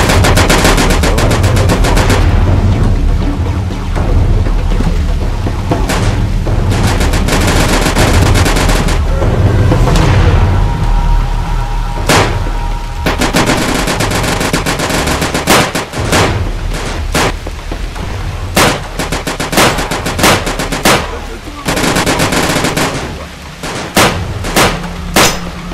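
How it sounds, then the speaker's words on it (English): Heavy machine gun fire rips through a town firefight in the game 35MM. Loud sustained bursts alternate with sharp single shots and short pauses, and heavy booming echoes run throughout. "Hey, they are shooting!"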